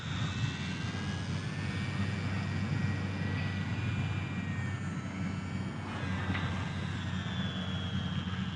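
An Eachine Mini P-47 RC warbird plane flies overhead, its small electric motor giving a steady whining drone with a shifting pitch that rises and falls against faint wind noise.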